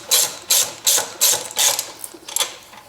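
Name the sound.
ratchet tightening frame bolt on Honda Ruckus scooter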